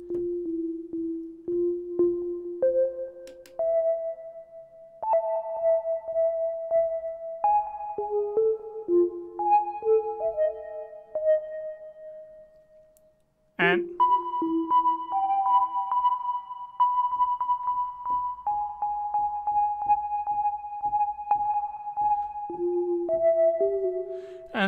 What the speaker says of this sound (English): the basic sine waves, but to detune a little bit the sine wave.